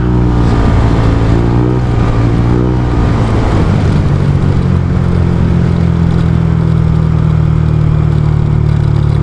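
A convoy of motorcycles and cars from a civic eagles club riding together toward San Pedro in Maddela, Quirino, with loud continuous engine drone and revving that rises and shifts pitch as the vehicles pass close by.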